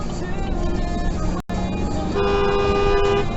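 A car horn sounds in a long steady honk over busy Maryland road traffic noise, with a brief dropout just before it.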